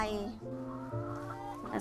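Organic egg-laying hens clucking inside a farm chicken coop, steady overlapping clucks and calls close by, with someone talking over them.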